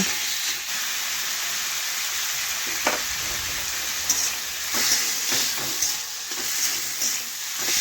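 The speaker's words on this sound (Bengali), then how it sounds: "এক থেকে দু মিনিট আমি ভেজে নেব পেঁপের গায়ে যে একটু জল বেরোচ্ছে সে জলটা আমি শুকিয়ে নেব" Papaya pieces fry in a pan as their water cooks off, a continuous moderate sizzle with occasional stirring clatters and scrapes, no voices.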